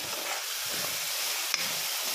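A tempering of curry leaves in hot oil for a raw mango and tomato chutney gives a steady, close broadband hiss and sizzle for about two seconds, with one brief sharper crackle near the end.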